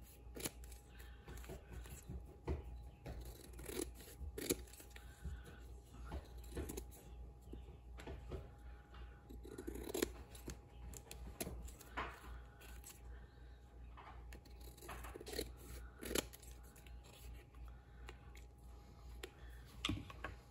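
Quiet snipping and small clicks of scissors cutting paper, irregular and close, with rustling handling sounds and no talking.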